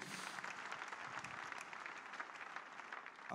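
A church congregation at a healing service claps in sustained, even applause that fills the room without a break from start to finish.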